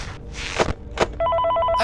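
A telephone rings in the horror game FNAF Ultimate Custom Night, a steady electronic trill that starts abruptly after a few muffled thuds and whooshes and keeps going to the end.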